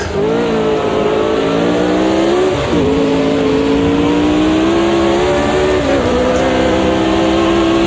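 Vintage Formula race cars in Automobilista 2 scream at high revs in a tight pack, a loud, continuous engine drone with brief dips at each gear shift before the pitch climbs again.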